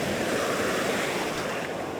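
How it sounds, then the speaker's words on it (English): Beach waves washing up the sand and drawing back in the backwash, a steady close roar of surf with wind noise and no talking. "So when this water goes back on the backwash"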